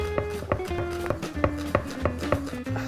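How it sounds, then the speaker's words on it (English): Knife finely dicing a shallot on a board into brunoise, a steady run of crisp, close chopping taps about twice a second, with no talk over it. "So I'm just going to chop this shallot very fine"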